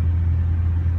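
Low steady engine rumble from inside a moving new car, a close, even drone with no other sounds over it.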